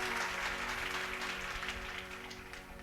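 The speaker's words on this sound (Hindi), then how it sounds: "महाराज इस बात पे ताली तो बजा दो।" An audience at a Bhagavat katha claps together in a dense, steady burst of applause that carries on throughout, slowly fading a little toward the end, with no talk over it.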